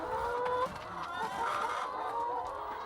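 Hens cluck steadily inside an organic poultry house holding seven birds per square metre, with several overlapping calls forming a close, continuous murmur.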